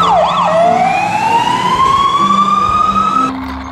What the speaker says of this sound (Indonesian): Mobil pemadam kebakaran, truk pemadam kebakaran.